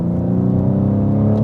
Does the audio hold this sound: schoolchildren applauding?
no